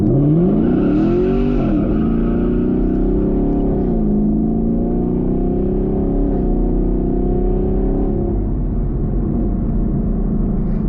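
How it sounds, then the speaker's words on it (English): Camaro LT1 doing a launch-control start with wheel spin, the engine roaring loud and close as it climbs through the revs, dips on a shift and pulls hard again, continuous and strong throughout. "I'm gonna find an open road so we can do a launch control"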